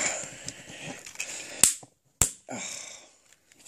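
Plastic tab on a Transformers Combiner Wars Optimus Prime toy snapping into its slot, two sharp, loud clicks about half a second apart amid softer handling and rustling.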